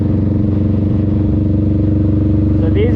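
A motorcycle pulls uphill on a street, its engine a steady pulsing mid-range drone that shifts in pitch near the end as it goes up a gear, heard close under someone talking.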